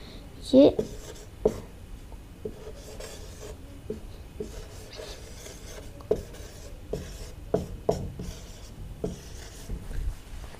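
Marker or chalk writing on a board during a maths class on set theory, heard as short scratchy strokes and taps in irregular bursts under a man's ongoing lecture.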